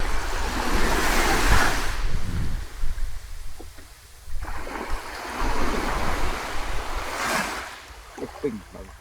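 Surf surges onto an island beach near Banyuwangi, with long washing waves rising and falling twice and gusts buffeting the microphone, loud and close with faint voices now and then.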